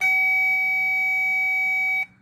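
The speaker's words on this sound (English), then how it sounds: "it only beeps when it connects to ground and shows me green light" A single steady electronic beep from a circuit tester, high and piercing, holds for about two seconds close by, then stops abruptly.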